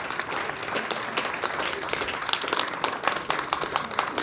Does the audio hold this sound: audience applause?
yes